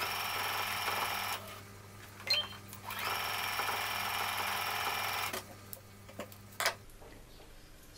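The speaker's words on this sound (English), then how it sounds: "So I'm doing a top stitch" A sewing machine runs a top stitch on a jumpsuit, a steady mechanical whir with a faint rhythmic tick, pausing briefly midway, then stopping with a few handling clicks.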